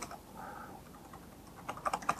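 Computer keyboard typing as a URL is entered: soft, quiet key clicks under faint room noise, building into a quicker, louder burst of keystrokes near the end.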